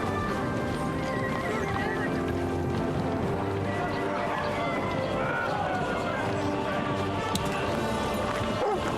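Horse neighs and hooves clop in Kingdom Come: Deliverance 2, a dense, loud stretch of whinnying and galloping hoofbeats from a ridden horse, running continuously under faint crowd noise.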